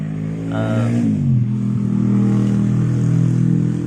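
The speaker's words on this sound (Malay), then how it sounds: "Ada motor lalu." Motorcycle passes on a village road, its engine droning steadily and fairly close, with a brief rising rev near the start and no talk over it.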